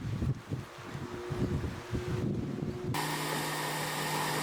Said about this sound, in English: there's also a setting so I can keep the belt running so it's hands-free